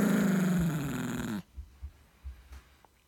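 A dog growls in a long, low rumbling snarl for over a second, then it drops to a few soft, short grumbles and breaths close by, with no talking.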